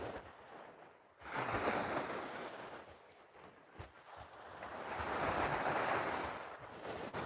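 Sea waves surge and wash onto a beach resort shore in two swelling rushes, the second longer, heard up close with wind noise while walking along the water, no talk.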